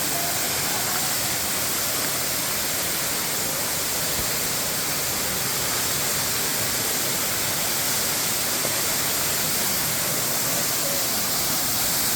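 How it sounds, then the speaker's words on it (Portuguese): A steady, roaring rush of falling water fills the air, a dense unbroken wash of sound from a waterfall, constant and loud. "A cachoeira menor caindo aqui e a maior lá ao fundo."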